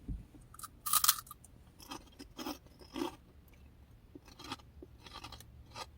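Spicy Queso Funyuns, a seasoned cheesy onion-ring snack, crunched and chewed in a quiet room: one loud bite followed by several softer crunches spaced about a second apart, with no talking.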